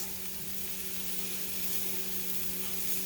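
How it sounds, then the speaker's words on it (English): Onions sizzle and crackle steadily in a hot pan while being stirred for a beef stroganoff, a constant, fairly close frying hiss with no voices. "Stir that around."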